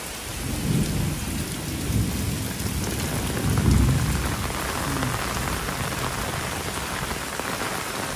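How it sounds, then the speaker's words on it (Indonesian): Heavy rain pours down steadily on a cattle-fattening farm, hissing across surfaces, while low rumbles of thunder roll underneath. No voices. "Hujan deras di Setia Farm."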